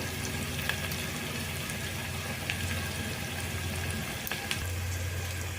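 Onions fry in a pan for chicken curry, giving a steady dense sizzle throughout with occasional faint clicks of a utensil, close and even.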